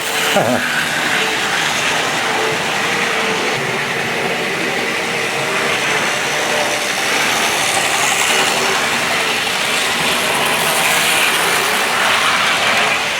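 A 1973 Hornby Triang Rovex model locomotive runs continuously nearby with a busy mechanical whirr and a rapid rhythmic chuffing beat from the Princess Elizabeth tender throughout.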